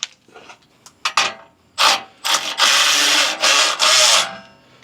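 Ratcheting and rubbing metal sounds as a 13 mm wrench tightens a bolt on a swaybar reinforcement bracket of a Jeep Gladiator, coming in several close, loud bursts of turning with short pauses between.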